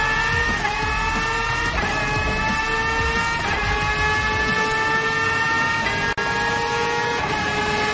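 Race cars run side by side for the lead at Sarthe in the Gran Turismo video game, with several high engine whines overlapping and their pitches rising and shifting together, loud and continuous, cut by one sharp click.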